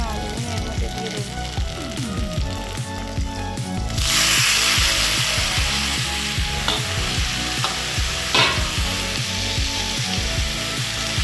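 Salted potatoes dropped into a pan with pointed gourd and slit green chillies, clattering stirs first, then a sudden loud hissing sizzle that swells and holds steady, close by with occasional scraping, no voices.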